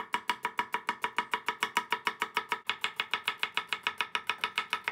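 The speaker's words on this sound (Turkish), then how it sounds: "hemen soğanlarımızı doğrayacağız" Rapid, steady knife chopping onions on a board, sharp regular strikes about five per second, close and clear with no talking.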